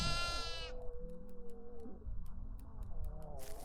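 Sheep bleating in the horror video game Devour: a loud, wavering bleat at the start, then lower-pitched calls and game sounds with faint ticks.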